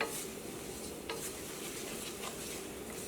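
Grated coconut roasting golden in a pan for an egg roast masala makes a dense, continuous dry sizzle and hiss, with soft scraping strokes of stirring throughout.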